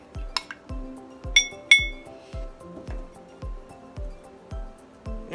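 A spoon stirs menthol eucalyptus shower steamer mixture in a bowl, giving a steady run of soft scrapes and thuds about every half second, with a few bright glassy clinks near the start.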